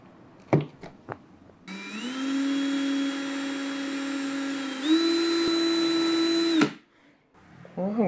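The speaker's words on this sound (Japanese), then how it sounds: "試しに 15mm で穴を開けてみましょうか。" Homemade horizontal drilling machine boring a 15 mm hole, the motor whining up to a steady high-pitched drone, rising in pitch midway as it cuts, then spinning down abruptly, with clicks and handling noises before and after.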